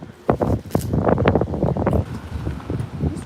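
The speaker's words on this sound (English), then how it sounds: "It's really windy." Gusty wind buffets the microphone in loud, irregular low rumbles and bursts, close and unsteady throughout.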